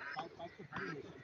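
Two ducks quack on a river, a pair of nasal calls close together, with speech mixed in faintly nearby.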